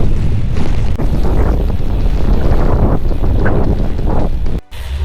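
Loud, blustery wind buffets the microphone in a continuous rushing roar, with gusts swelling and easing before a brief drop at the end.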